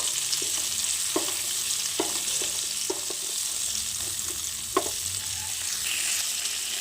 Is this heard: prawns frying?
yes